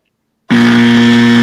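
A loud, harsh electronic buzzer from a trivia game, sounding once after a beat of silence and holding a steady, blaring tone to the end.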